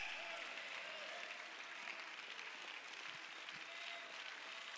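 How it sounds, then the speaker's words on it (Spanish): Applause from a church congregation during a Sunday school service, a steady, moderately faint wash of clapping hands sustained across the whole stretch with faint voices mixed in. "Denle ese aplauso al Señor Dios Todopoderoso."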